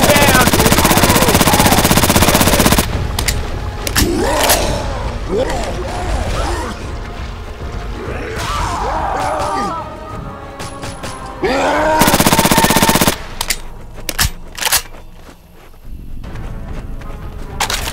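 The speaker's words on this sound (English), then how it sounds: "Taking the machine gun." Rapid bursts of machine gun fire in the zombie shooter Left 4 Dead 2, loud and sustained with brief pauses, layered with mechanical clanks, crashes and growling game effects during a tank attack.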